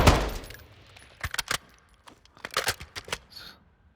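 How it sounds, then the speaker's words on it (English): Hip-fire gunfire in Call of Duty: Modern Warfare II crackles in short, sharp bursts of close shots, an initial loud blast followed by scattered clusters of rapid reports and a brief metallic tail. "you might just be hip firing."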